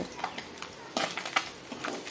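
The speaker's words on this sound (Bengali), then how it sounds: "এবারে মাছগুলো ভাজা হয়ে গেছে আমি একটা পাত্রে তুলে নেব" Fried puti fish being lifted from a kadai into a dish, with a few short metallic scrapes and clinks of a utensil against the pan over faint background frying.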